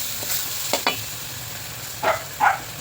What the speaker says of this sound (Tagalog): Haluin.